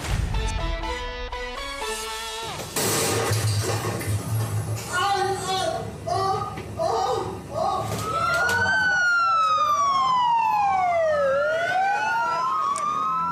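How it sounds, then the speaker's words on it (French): Emergency sirens sound across Lebanon during a wave of small explosions, with sharp bursts and chaotic noise at first, then loud wailing sirens rising and falling, overlapping near and sustained; voices are heard early on. "Les bruits que vous venez d'entendre, des bruits de mini-explosions, d'ambulances"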